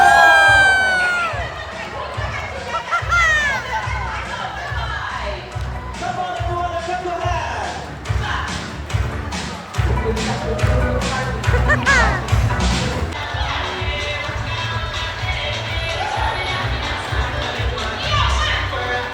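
Crowd of visitors at the Safari World Bangkok dolphin show, a steady hubbub of many voices with children's chatter and scattered claps or thuds, with a person talking over the din throughout.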